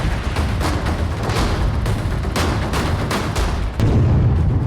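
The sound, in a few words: explosion destroying a house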